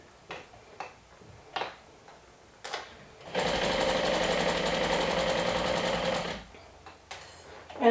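A sewing machine stitches a plush blanket made from two adult toppers along a seam, running steadily and loud for about three seconds between quieter handling noises.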